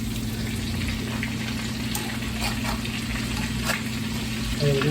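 Catfish bites pan-frying in oil crackle and sizzle steadily close by, with occasional pops and light scraping as pieces are turned, under a low continuous hum.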